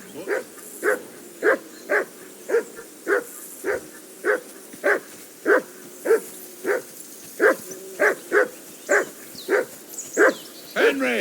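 Dog in the Kingdom Come: Deliverance II video game barks in a steady series of short, evenly spaced woofs, close and loud, with faint whimpering mixed in.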